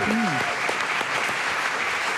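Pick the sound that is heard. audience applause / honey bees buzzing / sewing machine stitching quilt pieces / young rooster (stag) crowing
audience applause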